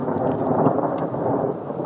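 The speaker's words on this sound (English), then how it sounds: "We're going to hear a thunderclap here in a moment." Thunderclap in a storm at a mountain mesa campsite in the Jemez Mountains, Santa Fe National Forest: a loud, sustained low rumble rolls on for the whole stretch over steady rain, with no talk.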